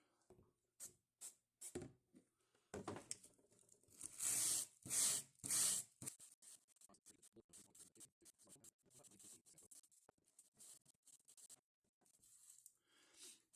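Several short sprays of cleaner hiss in quick bursts onto white leather athletic shoes, mixed with rubbing and scrubbing noises close by.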